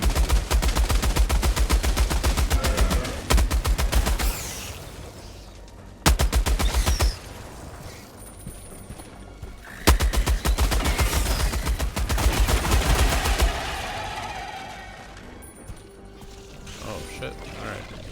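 Heavy machine gun in the game Helldivers 2 firing in long, rapid, loud bursts separated by short pauses, with mechanical clanks of reloading and handling between volleys.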